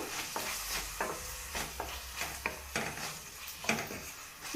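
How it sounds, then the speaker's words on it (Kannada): Tomato, ginger garlic paste and salt fry in oil in a pan with a soft sizzle, punctuated by repeated close clinks and scrapes of a stirring spoon. "ಇದು ಮೂರೂ ಹಾಕ್ಕೊಂಡು ಚೆನ್ನಾಗಿ ಇದನ್ನು ಎಣ್ಣೆಯಲ್ಲಿ ಸ್ವಲ್ಪ ಫ್ರೈ ಮಾಡ್ಕೋಬೇಕು"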